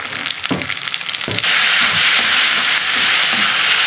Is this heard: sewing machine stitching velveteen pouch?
no